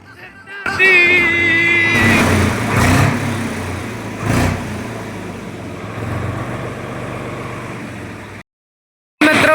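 Swaraj 855 tractor engine running loudly during a race, a rough mid-range roar with surges, rising and falling under brief shouting and talk, then cutting to near silence at the end.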